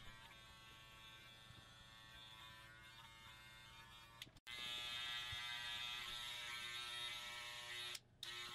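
An electric hair clipper fitted with a number 3 guard cuts hair during a barber's modern mullet haircut, giving a steady, close buzzing drone that breaks off briefly midway and again near the end.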